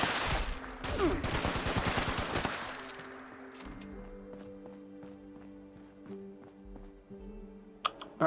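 Gunfire in Fallout 76 crackles as a dense rapid burst over the first few seconds, then gives way to quieter game ambience with scattered clicks and a distant tonal hum.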